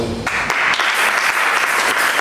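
A church congregation breaks into loud applause and acclamations of thanks to God, clapping swelling right after a brief voice at the start and continuing as a dense, energetic wash.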